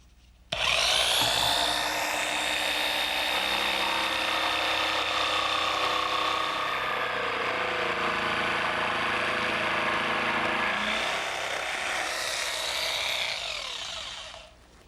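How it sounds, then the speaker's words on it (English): A jigsaw cuts an arch through a blank of paper-coated plywood, its loud buzzing rasp running steadily for about fourteen seconds, close up and alone, then stopping. "cut that arch in a blank piece, just using my jigsaw"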